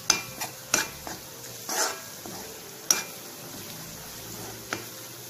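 Green chilies and turmeric frying in oil for a Kerala long beans stir fry, with a soft steady sizzle under several sharp scrapes and clinks of a utensil stirring the pan, close by.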